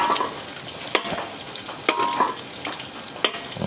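Egg sambal fries in chili oil in a pan, a steady crackling sizzle broken by sharp scraping clinks as the spatula stirs and pushes the mixture to the side every second or so.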